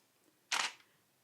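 A single camera shutter click, fired at f8 and a thirtieth of a second, sharp and close in a quiet room and fading quickly.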